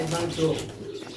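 A golden Pakistani pigeon gives a brief, close coo that overlaps with someone talking.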